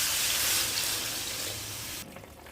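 Hot water pours into a pan of fish curry whose spiced oil has separated, giving a loud, steady gushing hiss for about two seconds before it cuts off abruptly.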